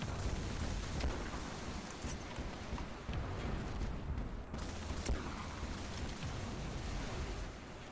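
Dense, continuous rumbling barrage of cannon and rocket fire from a tank in a shooter video game, loud and unbroken, with occasional sharper blasts standing out.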